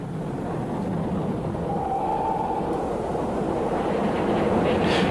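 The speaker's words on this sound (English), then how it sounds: "The castle, with its short train, is heading downhill towards Leamington." Castle class steam locomotive hauling a short train downhill toward Leamington, heard as a steady rumbling roar that grows slightly louder toward the end, with no talk.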